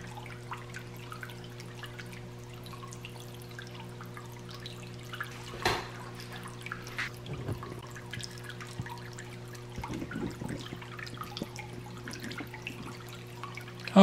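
A Peaktop pedestal fountain with an orb trickles softly and continuously, with faint scattered drips and splashes over a low steady hum, heard alone.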